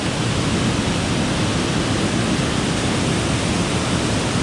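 Waterfall at a trout fishing spot near Center Hill Dam, a steady loud broadband roar of falling water that fills the whole clip without a break, with no voices over it.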